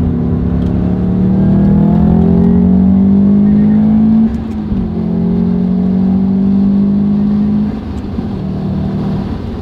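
A 6-speed swapped bugeye Subaru WRX accelerates hard from inside the cabin, its loud engine climbing through the revs, easing off briefly around the shift, then pulling again before settling lower.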